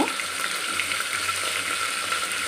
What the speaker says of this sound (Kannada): ಇವಾಗ ನಾನು ಎಣ್ಣೆ ಕಾಯ್ದಿದೆ ಜೀರಿಗೆ ಸಾಸಿವೆ ಹಾಕೋತೀನಿ